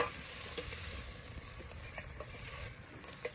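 Beef and potato stew sizzles and fries in a pot outdoors in the woods while being stirred, a steady close crackle with soft scraping stir strokes throughout.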